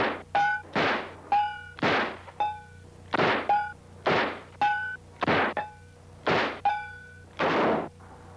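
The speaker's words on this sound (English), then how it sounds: "now they just start shooting fucking cans" Gunshots ring out in a movie scene and strike tin cans, about a dozen sharp reports in an uneven but fairly steady series, each followed by a short metallic clang and decay.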